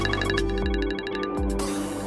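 A phone ringtone for an incoming call from Salman, a short, bright, repeating electronic melody with pulsing tones, loud and close with no voices.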